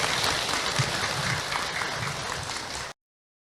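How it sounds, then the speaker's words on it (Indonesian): An audience at an Islamic lecture applauds, a continuous dense wash of many hands clapping together that stays even before cutting off abruptly. "tepuk tangan untuk Ahilman"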